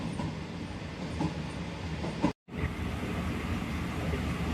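Steady rolling rumble and rail clatter of the Jaffer Express passenger train approaching a junction station, constant and close with faint periodic clicks and a brief dropout near the middle, no talk.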